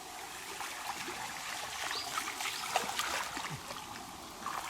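A small forest stream with its water nearly dried up trickles steadily and close by, a soft continuous babble with a few faint splashes and no talking.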